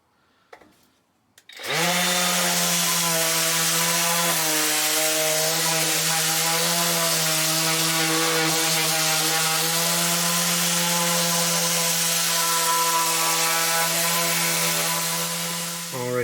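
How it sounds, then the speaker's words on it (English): A power sander works a wooden slab with 80 grit sandpaper, starting abruptly after a short quiet moment and then running loud and steady with a constant motor whine and rasping abrasion. "Now I've just got to sand this whole piece."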